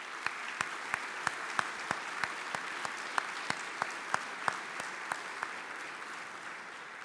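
Audience applause at a shoulder-surgery keynote lecture: a steady wash of crowd clapping with sharp, evenly spaced individual claps standing out, moderately loud throughout.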